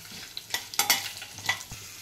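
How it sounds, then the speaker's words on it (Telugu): Ginger pieces and garlic cloves with urad and chana dal being stirred in a frying pan for a ginger chutney, with scattered scraping strokes over a faint sizzle, close and fairly quiet. "అందులోనే ఒక 5-6 అల్లం ముక్కలు, వెల్లుల్లి రెమ్మలు వేసి బాగా కలుపుకోవాలి"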